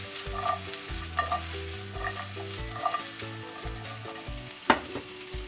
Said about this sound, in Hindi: और सारी सब्जियों को टॉस कर लेते हैं।